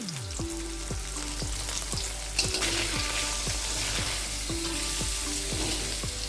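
Paneer sizzles steadily as it fries in a wok, a dense continuous crackle with repeated scraping strokes of stirring throughout.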